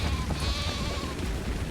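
Sheep bleats from the video game ARK Survival Evolved, a wavering bleat close and clear over a steady low rumble of game ambience, no talking.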